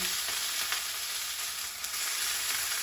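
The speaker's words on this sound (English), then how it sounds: "you're actually going to be able to brown the side that doesn't have as much meat very easily" Pork ribs for peach ribs browning in a hot skillet, giving a continuous close sizzle and spatter, fairly quiet and even throughout with no talk.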